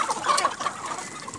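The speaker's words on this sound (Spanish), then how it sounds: "mostrarle un poco de las gallinas criollas" Peruvian creole hens about two and a half months old clucking at home, a close, busy run of overlapping clucks and soft calls with no talk.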